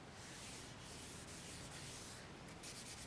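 Hand sanding a guitar's finish with sandpaper, steady continuous rubbing and scraping strokes up close, working one spot of the body to remove a diagonal scratch, with no talking.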